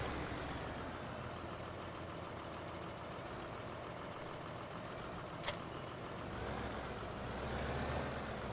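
A tractor in Farming Simulator 15 drives along with a steady, low engine drone that stays even throughout, rising slightly near the end, with one brief sharp click partway through and no talk.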